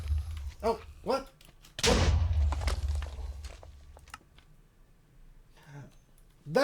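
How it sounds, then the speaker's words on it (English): A single loud, booming blast in Minecraft 1.12 rolls out and decays over a couple of seconds, with footstep-like thumps and a voice talking before and after it. "That's what the explosions are."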